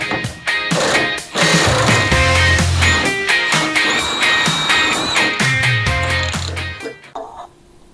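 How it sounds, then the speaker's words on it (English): Lower damper bolt on an Audi TT being undone with a power tool: loud, close rattling impact bursts in a fast mechanical stutter, stopping and starting several times before falling quiet. "as I undo the lower damper bolt"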